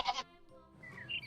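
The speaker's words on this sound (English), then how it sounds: "G for goat." A goat gives one short, close bleat, a quick wavering cry heard alone between the lines of a children's alphabet song.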